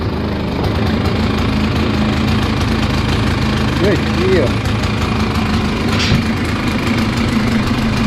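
A small 90cc ETon engine idles steadily with a low, even putter, close by, while someone briefly speaks over it.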